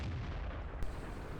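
Heavy gunfire in a tank combat video game on the Sand River map, a steady dense rumble of distant firing with one sharper shot partway through, no talk.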